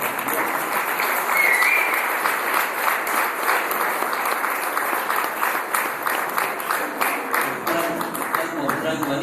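Audience applause for newlyweds Héctor and Luciana, steady crowd clapping that holds through the whole stretch at a lively, even density, fairly close and loud with no voices over it.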